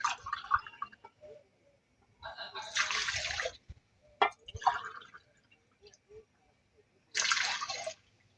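Two cups of warm milk pour into a bowl while making a sandwich dough in a home kitchen: short bursts of splashing liquid separated by quiet gaps and small clinks, close by.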